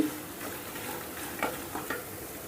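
Steady hiss of peanuts frying in hot oil, with a few soft stirring scrapes and clicks breaking through near the middle.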